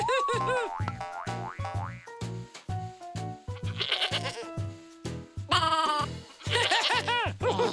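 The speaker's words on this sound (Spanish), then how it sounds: "Cabra." A cartoonish goat bleat mixes with springy boing effects and playful musical tones in a busy children's toy and farm animal segment, loud and close throughout.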